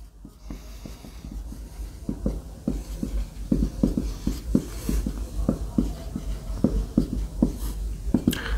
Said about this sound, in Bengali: দেখে দেখে লিখব।